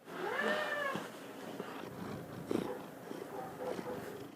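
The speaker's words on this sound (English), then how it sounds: "My cat wants to join." A house cat lets out a drawn-out rising meow up close, then purrs and chirps softly in an office, with a few faint thumps and small sounds around it.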